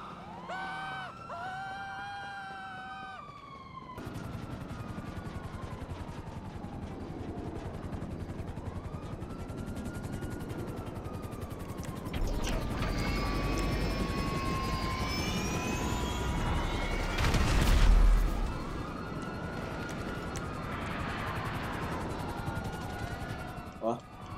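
Helicopter rotor and engine roar with gunfire in GTA Online as a chopper is shot and blown up, loud continuous whine with rising and falling engine pitch, a burst of impacts near the end.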